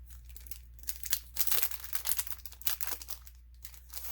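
Cellophane wrapper being crinkled and handled nearby, a soft, continuous crackling and rustling over a low steady hum, with no talking.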